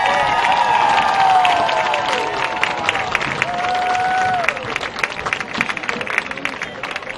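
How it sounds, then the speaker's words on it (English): Crowd at an Oxford high school football game applauds and cheers for the future Oxford Chargers, a broad wash of clapping and voices, loud at first and thinning toward the end, with a few whistles. "please rise and give a big round of applause for your future Oxford Chargers"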